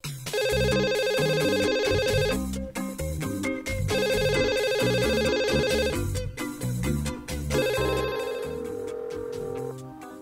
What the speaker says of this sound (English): You might as well pick up the phone